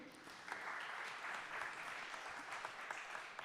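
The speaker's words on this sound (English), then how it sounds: "Big applause for him." An audience at a spin-off company event applauds a co-founder and CEO after his introduction, a steady wash of many hands clapping, heard faintly and at a distance for several seconds.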